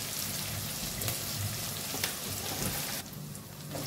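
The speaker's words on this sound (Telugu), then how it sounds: "క్యారెట్, ఆలు కొంచెం వేగిద్దాం." Carrot and potato pieces fry in oil in a pan, giving a steady close sizzle and crackle that runs without a break and turns a little quieter near the end.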